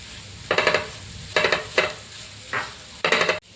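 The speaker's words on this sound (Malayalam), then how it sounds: "ഇനി ഇതിലേക്ക് ആവശ്യത്തിന് ഉപ്പും കൂടി ചേർത്ത് നന്നായിട്ടൊന്ന് വഴറ്റിയെടുക്കാം" Chicken curry masala with crushed coconut is stirred in a pan over a faint sizzle, with about five short bursts of spoon scraping coming in an irregular rhythm, close and clear.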